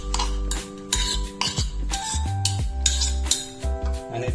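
Chicken and onion paste are stirred in a metal pan, with a spoon scraping and clinking against the sides in close, uneven strokes.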